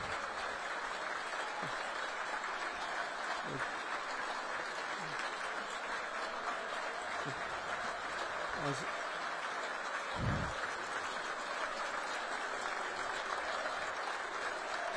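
Football crowd at an FC Halifax Town versus Wrexham match applauds steadily in the 19th minute in memory of Noah Brown, a broad distant wash of clapping across the stadium beneath a commentator's voice.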